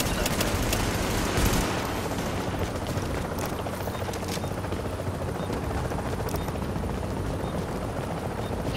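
Rotor thump of an extraction helicopter arriving over the Dark Zone in Tom Clancy's The Division, a steady loud drone filling the whole stretch with bursts of gunfire crackling near the start.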